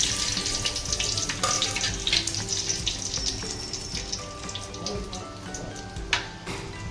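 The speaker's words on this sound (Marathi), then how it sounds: "तेल आपलं छान गरम झालं आहे तर हा आपण खडा मसाला टाकून घेऊया" Whole spices dropped into hot oil for chicken biryani, a continuous bright crackling sizzle with scattered pops, close and steady, without talk.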